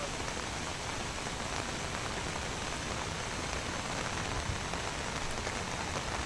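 Heavy rain in Andhra Pradesh pours down steadily, a dense, even hiss of drops striking surfaces that holds unchanged throughout with no voices.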